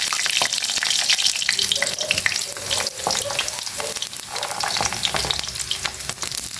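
Sliced eggplant fries in hot oil in a pan, sizzling and crackling loudly and close by, with irregular pops and stirring clatter scattered through the steady spitting.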